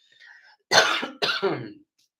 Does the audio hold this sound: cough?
yes